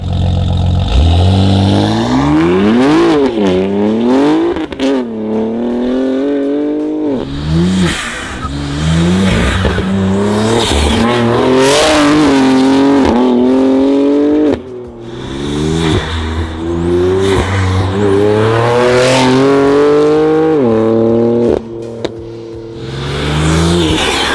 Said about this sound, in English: Let's see how the G80 M3 sounds.